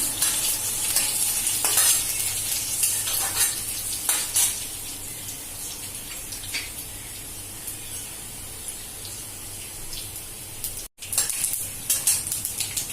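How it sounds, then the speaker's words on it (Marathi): Continuous crackling sizzle of finely chopped garlic frying in hot oil until red for a raw mango curry, loud and close, with occasional scrapes of a spoon against the pan. "चांगला लाल झालाय फोडणी तडतडली"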